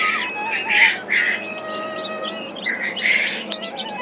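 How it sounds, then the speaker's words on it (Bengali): Newly hatched Brahma chicken chicks chirp in a hatchery, a cluster of high, bright peeping calls coming in bursts with brief gaps, close by and with no talk. "এগুলো হচ্ছে মুরগির বাচ্চা, মাত্র এগুলো বাচ্চা উঠাচ্ছে"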